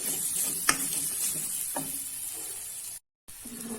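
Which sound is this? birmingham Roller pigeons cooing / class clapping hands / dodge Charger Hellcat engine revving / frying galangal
frying galangal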